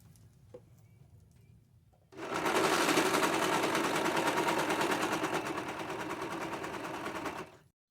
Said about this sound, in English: I run it through the serging machine so it'd have a clean edge